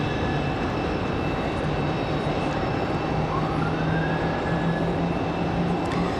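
A departing airliner at Raleigh Durham airport gives a steady, loud broadband engine roar with a faint rising whine, continuous throughout with no talk.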